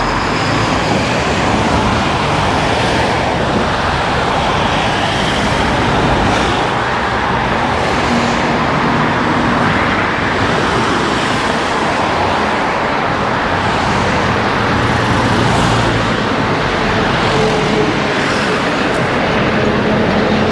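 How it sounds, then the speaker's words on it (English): Heavy Friday road traffic in Lindfield on Sydney's North Shore forms a loud, continuous roar of cars and passing vehicles close by, unbroken throughout. "There's a lot of traffic."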